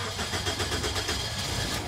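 A Toyota Altis car engine starting with a short run of rhythmic mechanical pulses. The catch and idle sound moderate and close, with no talking.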